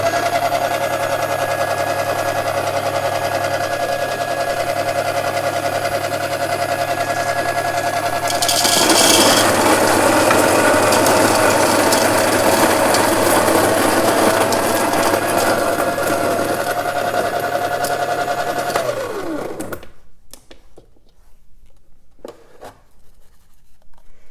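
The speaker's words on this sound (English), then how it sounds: "So what I do is grinder on." Electric coffee grinder coarsely grinding Kenya coffee beans for French press, a loud steady whirring drone that intensifies midway, runs for about twenty seconds and then cuts off abruptly, leaving quiet handling noises.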